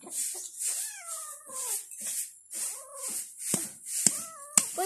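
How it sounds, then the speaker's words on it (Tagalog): A blue-eyed female cat meows repeatedly and caterwauls in drawn-out, wavering cries, close and fairly loud, with a few sharp knocks near the end and no talking. "Maldita yung pusa ko."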